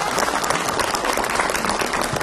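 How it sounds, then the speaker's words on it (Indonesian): Audience applause at an Islamic religious talk, a brief burst of steady clapping from a crowd, loud and continuous throughout. "tepuk tangan ngape?"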